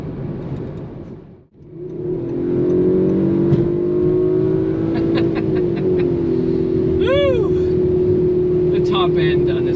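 A 2019 Audi RS5 Sportback (B9) engine and exhaust hum steadily nearby after a brief dip, holding a sustained droning tone with a short rising rev swell, the exhaust note loud and continuous.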